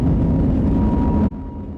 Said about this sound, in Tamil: டேக் ஆஃப் ஆயிடுச்சுங்க.